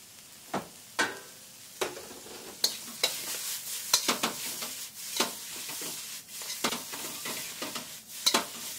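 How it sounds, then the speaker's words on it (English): Vegetables sautéing in a pan while cooking a Khao Soi noodle bowl, a soft steady sizzle broken by repeated scraping stirs of a utensil against the pan, no voices. "Vegetables are nicely sauteed."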